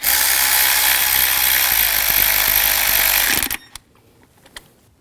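Upper engine mount bolts on a 2001-2009 Volvo S60 are tightened with a power tool: a loud, steady whirring runs about three and a half seconds, then stops, leaving a couple of faint clicks.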